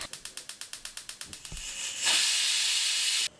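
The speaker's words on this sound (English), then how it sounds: "Here I am going to boil the masoor dal first" A pressure cooker boiling masoor dal puffs out a rapid run of about a dozen short, evenly spaced steam hisses, then a thump before a sustained loud hiss of steam releasing that cuts off abruptly, heard up close with no speech.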